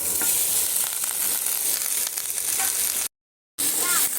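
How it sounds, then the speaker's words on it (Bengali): Loud, steady sizzle of fried cauliflower, potato and carrot hitting hot oil and fried spices for a vegetarian curry, with a short dropout of total silence partway through before the frying hiss returns. "এর মধ্যে দিয়ে দেবো ভেজে রাখা ফুলকপি আর আলু আর গাজর"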